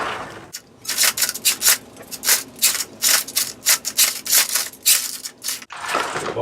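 A New Bright toy RC Dodge RAM truck tries to climb logs lying on the ground, giving close, repeated bursts of scraping, grinding motor and tire noise with brief pauses between them.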